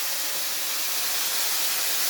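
Cumin and tomato paste sizzle loudly in hot oil in a pan, making a continuous, close, bright hiss without pauses.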